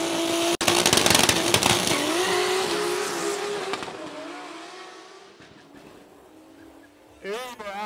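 A 600+ hp Golf drag race car launches down a 402 m drag strip, its loud roaring engine howling through the gears and fading into the distance before another engine revs up nearby near the end.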